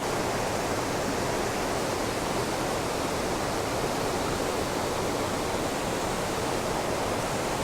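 Waterfall at Cradle Mountain pours steadily, a dense unbroken rush of water that holds loud and even throughout with no other sounds on top.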